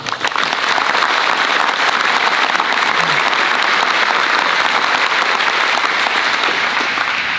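Sustained audience applause at an Air Force District of Washington change of command ceremony, a dense, steady wash of many hands clapping without pause throughout.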